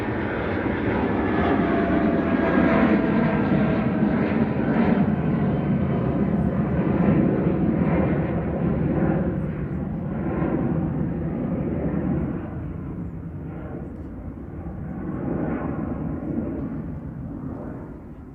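An unpainted Lufthansa airliner at Manchester Airport roars past, a loud steady engine rumble and whine that slowly fades as it moves away.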